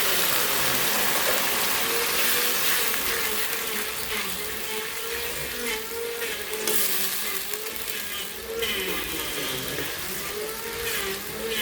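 Ginger and chili paste sizzles in hot oil with onion and garlic, a steady close frying hiss broken by scraping stir strokes against the pan.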